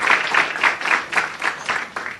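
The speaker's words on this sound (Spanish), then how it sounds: "un fuerte aplauso para los panelistas y el doctor que ha presentado" Applause from a conference audience thanking the panelists at a medical talk, a steady crowd clapping that swells and eases in several waves over a couple of seconds.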